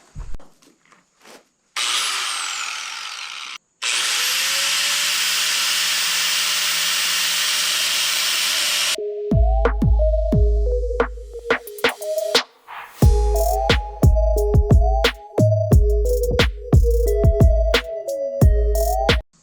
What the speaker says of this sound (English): So let's cut this rebar real quick.